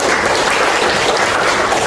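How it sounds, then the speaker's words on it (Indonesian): Students in an Indonesian history class applaud, a brief, loud, dense burst of clapping that continues unbroken through the moment. "Tepuk tangan untuk kalian"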